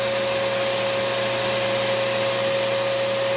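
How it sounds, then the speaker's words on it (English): A small vacuum attachment draws dust from inside a jammed sewing machine, giving a constant, loud, close motor whine throughout without speech. "just going to vacuum all these dust bunnies out of here."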